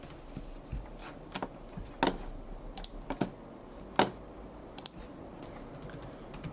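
Typing a search keyword on a computer keyboard, a series of quiet, close key clicks in uneven bursts with pauses, no voices.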